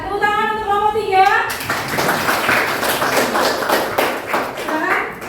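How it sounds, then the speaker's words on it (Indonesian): Classroom applause for a student group presenting on globalisation, a burst of brisk hand claps from pupils that starts after a moment of speech and continues steadily, fairly close and lively with children's voices chattering underneath. "Ya, tepuk tangan untuk kelompok 3."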